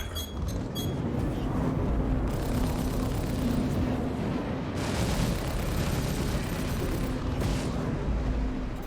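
Aegis Gladius ship in Star Citizen taking fire, with a dense roar of impacts and explosive booms mixed with clinking hits, loud and continuous, starting with a few sharp metallic pings.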